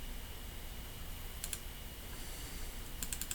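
Two quick bursts of mouse clicks at a Windows computer, a double-click on an MSI installer file, each a short crisp pair of ticks over steady low room hiss.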